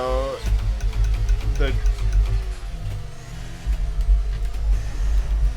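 Formula 1 race car from the F1 23 video game roaring past at the Las Vegas circuit, a loud engine drone with a brief rising whine, heard under steady commentary.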